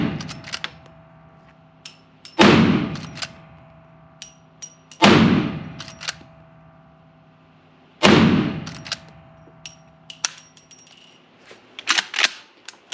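Three loud, sharp rifle shots from a Smith & Wesson 1854 lever-action rifle fitted with a Timney trigger, spaced a few seconds apart, with metallic clicks and clacks of cycling the action between and after them.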